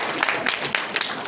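Audience at a Hindi literary session on disability discourse clapping in brief, repeated bursts through the short moment, moderately loud and close, with no clear talk over it.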